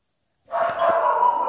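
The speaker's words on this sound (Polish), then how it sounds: "Mój pies teraz szczeka, trudno tego nie słyszeć" A dog barks after a moment of silence, a single short loud close yelp that trails into a brief whine.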